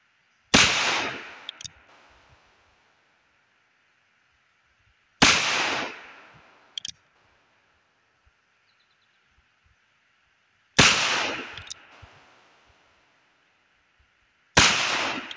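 A Cimarron Thunderer .357 revolver fired on an outdoor range: four sharp, loud shots spaced several seconds apart, each with a quick echoing decay and faint clicks between, no talking.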